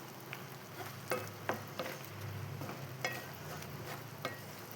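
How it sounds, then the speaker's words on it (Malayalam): A spoon stirs a thick milk laddu mixture with ghee-fried raisins in a pan, giving a soft low sizzle with irregular scraping strokes and small clicks, and no voices. "എന്നിട്ടെല്ലാം കൂടി ഒന്ന് മിക്സ് ചെയ്യട്ടെ."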